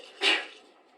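A single short sneeze bursts out about a fifth of a second in, fairly near and moderately loud, in a quiet room during a board meeting, then trails off into a soft breathy tail.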